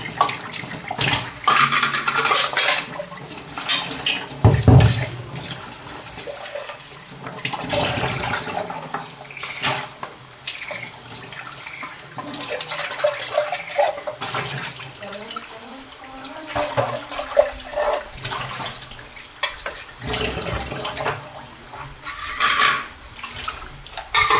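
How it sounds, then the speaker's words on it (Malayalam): A grinding vessel being washed under a running tap, with continuous splashing water, clattering and rinsing noises throughout, loud and close. "അരച്ച പാത്രമൊക്കെ ഒന്ന് കഴുകി വെക്കട്ടെ കേട്ടോ"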